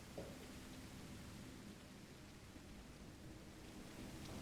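Steady rain falling outside in a video game, heard as a soft, even hiss of pink-noise-like patter with no other sounds.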